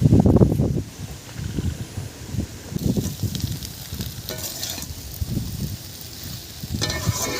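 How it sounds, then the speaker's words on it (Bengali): Crab and red amaranth greens cook under a lid in a pan, giving a low, uneven bubbling sizzle with soft crackles and a few clinks, moderately loud throughout. "এবারে অল্প অল্প করে সেদ্ধ হবে ভেতরে ভেতরে, আমি এটা চাপা দিয়ে দিলাম।"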